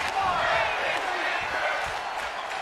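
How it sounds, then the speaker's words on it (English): Crowd noise from a wrestling video game fills the arena as a steady, dense roar with chanting rising and falling, carried throughout at a consistent level. "Crowd now chanting back and forth."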